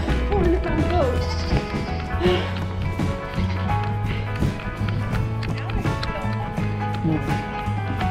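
A large goat wearing a harnessed action camera bleats several times up close, with scuffling movement and hoof-like thumps around it and voices in the background.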